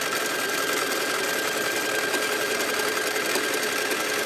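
Sewing machine running at fast speed for free motion quilting, a steady, continuous whirring hum with a rapid stitching buzz throughout, close and fairly loud, no pauses.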